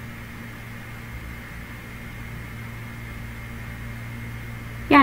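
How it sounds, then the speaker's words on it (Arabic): A microwave oven runs with a steady, even hum and airy fan noise while melting a cube of chocolate in a dish, then a sharp click or beep at the very end. "نفس الطبق اللي احنا سيحنا فيه الشوكولاتة المرة اللي فاتت في الميكرويف هحط تاني مكعب وروح الميكرويف وسيحها"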